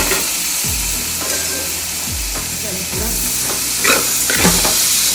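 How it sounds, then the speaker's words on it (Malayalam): Onion, tomato and green chilli sautéing in an uruli pan make a loud, steady sizzle broken by repeated scraping strokes of a spoon against the metal, about five of them in quick succession. "നമ്മൾ ഉരുളിയിൽ തന്നെയാണ് സവാള വഴുന്നത്"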